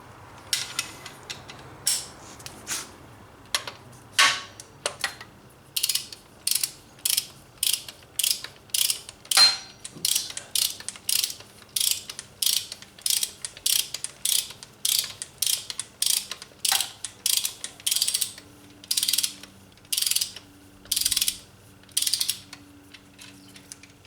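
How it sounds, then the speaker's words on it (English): A torque wrench ratchets a bolt on a 1977 Camaro Z28 accessory drive install, tightening it to 37 foot-pounds with a long series of quick, close, rhythmic clicks in short bursts and no talking. "this needs to be torqued to 37 foot-pounds first"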